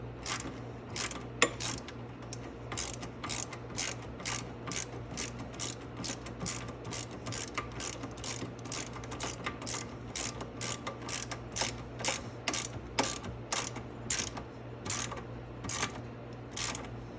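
A ratchet tightens the control arm bolts on a Venom Grizzly 125cc ATV, giving a long, steady run of close, crisp pawl clicks in a fast, even rhythm with no talking.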